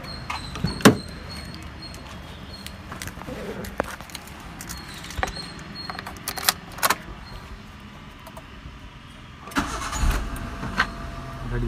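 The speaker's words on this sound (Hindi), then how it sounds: "तो फ्रेंड्स अब नेक्स्ट हम गाड़ी को स्टार्ट करके आपको दिखाएंगे।" A Hyundai i10 with a freshly changed crankshaft seal and topped-up engine oil cranks and starts, preceded by keys jangling and a door, then settles into a steady idle with a few knocks and clicks close by.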